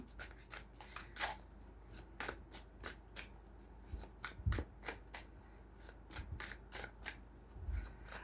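A deck of tarot cards being shuffled by hand in a quiet room, with repeated crisp riffling bursts and soft slaps at an uneven rhythm, close and fairly faint.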